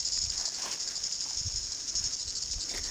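New Zealand chorus cicadas singing outdoors, a steady high shrill buzzing chorus that holds throughout, with faint low rustling and handling noises underneath.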